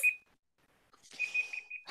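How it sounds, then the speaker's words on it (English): A game timer goes off with a short high electronic beep, falls silent, then sounds again in a quick run of repeated tones, close and clear with no talk over it. "And the timer just went off."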